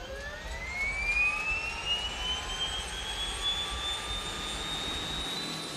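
A movie aircraft's propeller engine spins up after ignition, a loud steady whine rising in pitch over a rumbling roar throughout, with no talk.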